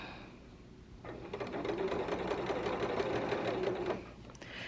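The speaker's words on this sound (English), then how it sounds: "I'll be cleaning up the seam allowance by serging it" A serger overlocks the seam allowance on a sewing basket piece, starting up after a second of quiet room tone and running in a steady, fast, close whir for about three seconds before stopping.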